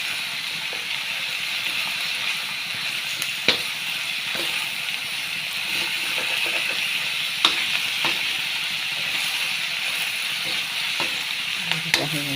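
Cabbage and pork stir-fried in a pan give a steady, close sizzle that runs throughout, broken by occasional sharp spatula clicks and scrapes as the mix is stirred.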